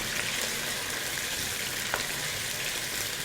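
Potatoes fry in a pan for an eggplant masala dish, giving a soft, steady crackling sizzle that runs evenly throughout, fairly quiet, with one brief click near the end.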